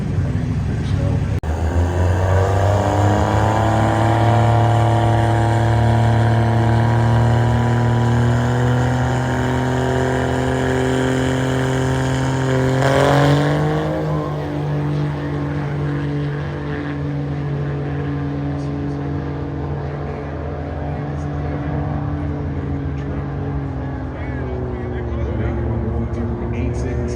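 A drag racing car makes a run at Bristol, its engine holding a loud, steady drone that climbs in pitch through the gears and then eases off near the finish, with a voice commentating over it.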